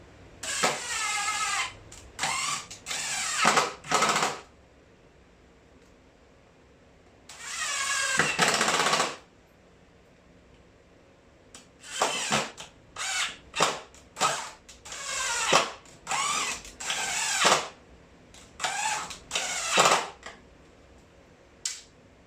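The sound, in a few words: drilling into door frame in shop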